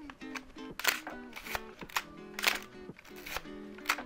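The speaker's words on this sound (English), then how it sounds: "all you have to do is pull on the shutter cock, release the first frame, and keep going until you get to the numerical one at the top" A Nikon FA 35mm SLR film camera is advanced to its first frame, giving a sequence of sharp mechanical clicks and ratcheting lever strokes at close range, repeated several times in an irregular rhythm over a soft background hum.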